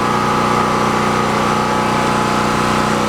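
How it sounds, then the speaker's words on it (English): A small portable generator with a 20-ounce oil system, burning about 1.5 gallons an hour, runs steadily and loudly up close, its even engine drone holding without change throughout. "Good little generator."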